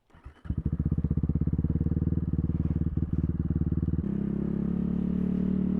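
A KOVI Lite 300 enduro motorcycle engine starts and pulls away, a loud steady thrumming that climbs in pitch as it sets off, close to the listener.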